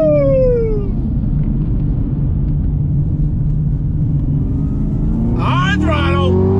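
A Chevy Camaro ZL1 1LE engine under throttle, a heavy low rumble with rising and falling revs heard from inside the car, and a voice briefly exclaiming near the end.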